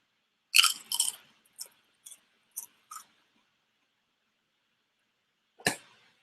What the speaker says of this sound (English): Here's open mouth crunch.